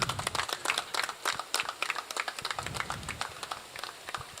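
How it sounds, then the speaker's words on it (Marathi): Applause at a prize distribution ceremony for a councillor's cup tournament, many hands clapping briskly in a steady, moderately loud burst with no voices over it. "जोरदार टाळ्या."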